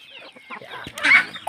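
Chickens being fed in a rural yard in the morning, clucking close by in short bursts that build to one louder squawk near the end, with scattered pecking sounds.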